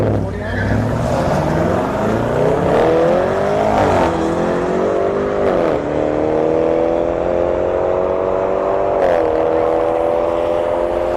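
A Nissan 350Z and a BMW 340i drag racing at a motorsports park, with loud engines revving and shifting through rising and falling tones and some tire squeal, sustained and close.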